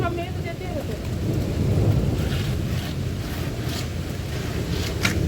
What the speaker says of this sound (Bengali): সাবধানে বৃষ্টি হচ্ছে